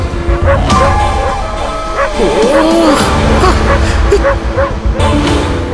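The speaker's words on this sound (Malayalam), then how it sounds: "ഈ വീടിന് ചുറ്റും നായ്ക്കളാണല്ലോ" Several dogs bark, yip and howl together in a loud, overlapping chorus, one rising wail standing out midway, with voices faintly underneath.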